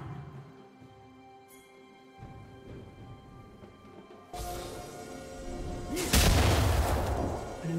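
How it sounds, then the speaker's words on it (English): A turret is destroyed in a League of Legends match, with a booming explosion and crackling burst that swells partway through and peaks loudly near the end, over faint game background sounds. "Blue team's turret has been destroyed."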